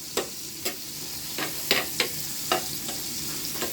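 Onions being stirred and sautéed in a pan for sizzling squid, with a faint steady sizzle and several sharp scraping stirs spaced through the clip, close by and with no talking.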